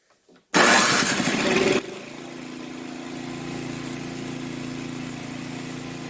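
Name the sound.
snow blower engine started with new electric starter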